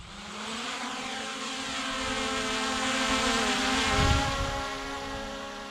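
A Holy Stone HS720 drone's motors spin up for takeoff, a steady close whirring hum with a high-pitched tonal whine that swells in loudness and then eases slightly, with no voices.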